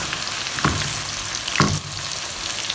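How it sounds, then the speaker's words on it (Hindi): Potatoes frying in oil in a pan while making aloo chicken, a steady bubbling sizzle throughout with a couple of brief louder stirring scrapes, close and fairly loud with no talking. "आलू गए सारे इसके अंदर, अब थोड़े से ये पकते हैं इस साइड से"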